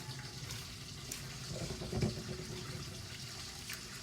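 Grated coconut squeezed by hand to press out thick coconut cream gives quiet, wet squelching and dripping, with a brief fuller splash midway and no talking.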